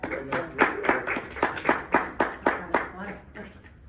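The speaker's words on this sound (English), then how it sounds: "I'd like a great hand applause." Small audience at a Parkinson's support group meeting clapping in a brief round of applause, distinct hand claps close by that taper off after a few seconds.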